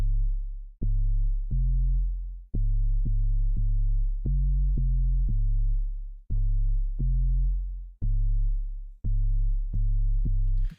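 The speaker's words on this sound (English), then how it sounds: "Which is kind of like an 808 pluck." Deep, booming hyperpop synth bass notes made from a sine wave in a punchy plucked rhythm, each short and rounded like an 808, playing a repeating pattern alone.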